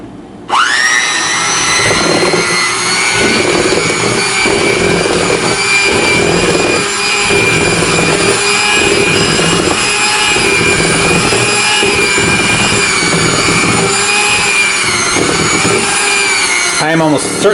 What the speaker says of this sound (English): here's your 5-second warning before I turn the mixer on